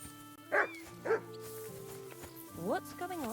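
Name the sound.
dog barking in Kingdom Come Deliverance 2 video game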